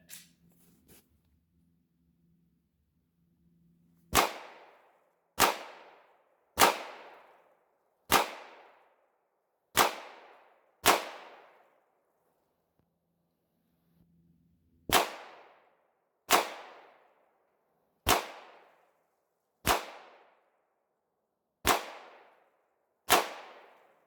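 A Glock 34 pistol fires eleven loud, sharp shots at a range target in two strings of six and five, each crack spaced about a second apart and fading quickly, with a quiet pause between strings.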